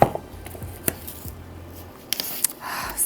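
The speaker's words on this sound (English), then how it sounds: "this X-Acto is going to cut through the box" An X-Acto knife slicing through a cardboard box, short scraping cuts and crisp snaps at irregular moments, close and fairly quiet amid handling noise.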